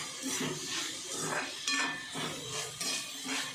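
Rhythmic scraping and clinking of a utensil against a pan, repeated stirring strokes up close with a light sizzle underneath as cluster beans stir-fry.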